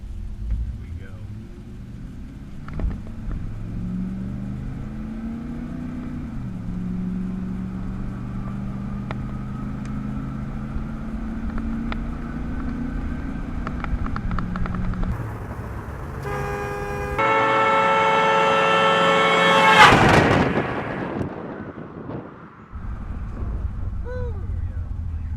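A car drives past a fixed listening point, its engine and tire noise swelling as it approaches, peaking loudly as it passes, then falling away with a downward pitch shift, with a horn-like tone near the pass.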